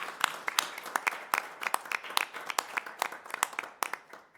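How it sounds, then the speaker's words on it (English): Scattered clapping at a public school board meeting after a choir is recognized: a small group claps in distinct, irregular strikes, fairly quiet and slightly distant. "Let's give them a round of applause."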